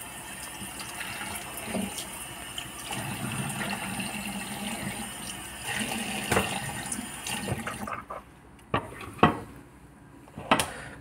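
Milkfish (bangus) washed under a running tap, a steady close rush of water with splashes and clatter, then the flow cuts off leaving a few sharp knocks and drips.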